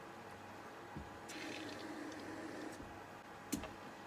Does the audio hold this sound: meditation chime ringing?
no